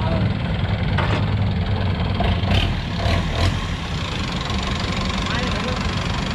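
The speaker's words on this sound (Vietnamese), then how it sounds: "xe máy chạy ngon quá mà sửa gì?" A motorbike engine runs at a steady idle close by, its low continuous rumble carrying on throughout as people talk over it.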